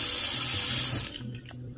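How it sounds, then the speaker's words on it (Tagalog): Steady stream of water from a touchless kitchen faucet hitting a sink, loud and close, then cutting off abruptly near the end. "And also, we have a touchscreen faucet."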